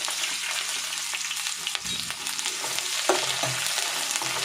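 Long-sliced onion and two green chilies fry steadily in a pan for soya pulao, giving a continuous close sizzle broken by a few spoon scrapes and knocks while they are stirred.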